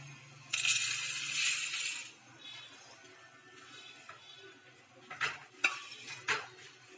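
Fried boondi is stirred into hot sugar syrup in a pan, making a burst of wet, sizzling stirring followed by quieter scraping and a few sharp clinks of the spoon against the vessel.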